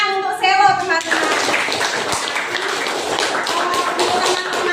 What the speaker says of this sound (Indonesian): tepuk tangan untuk Selo teman-teman